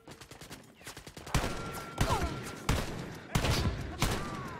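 Bursts of gunfire from Jaeger enemies in the video game Wolfenstein Youngblood, several loud volleys of shots hitting in uneven succession over a steady game background, with a brief spoken remark in the middle.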